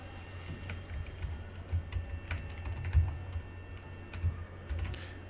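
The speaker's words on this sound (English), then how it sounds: "Type in here the characters." Fingers type characters on a computer keyboard in quick, uneven clicks and taps, close and fairly faint, over a low steady hum.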